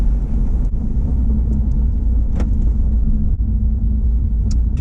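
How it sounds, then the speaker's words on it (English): Honda HR-V in sports mode on a gravel road, heard from inside as a loud, continuous engine and tyre rumble with a low roadway drone and occasional faint ticks of gravel. "we're starting this test drive on a kind of little gravel road"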